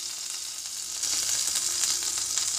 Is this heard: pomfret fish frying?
yes